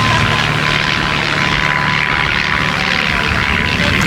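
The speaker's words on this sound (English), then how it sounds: "That is a sharp plane." Propeller aerobatic plane performing rolls and loops during a sailing race along the Texas coast, its engine a steady loud broadband drone under wind, with no talk in the moment.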